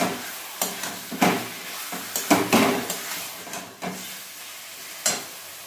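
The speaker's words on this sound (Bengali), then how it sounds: "হাই ফ্লেমে কষাবো।" Spices sautéing on high flame: a low background sizzle broken by a series of sharp spatula scrapes and knocks against the pan, irregular and close.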